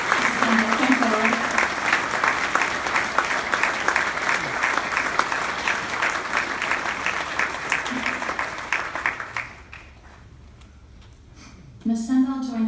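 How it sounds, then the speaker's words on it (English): An audience at a Veterans Day ceremony applauds for about nine seconds, loud dense clapping that fades out, followed by a moment of quiet before a voice speaks. "Please give a round of applause to these women."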